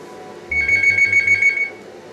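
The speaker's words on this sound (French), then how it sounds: "on va attendre que le téléphone arrête de sonner" A phone rings in the Nintendo DS game Pokémon Ranger: Shadows of Almia. A single bright electronic trill lasts about a second over a low hum, then cuts off.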